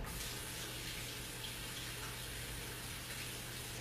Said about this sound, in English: let me wash this off really fast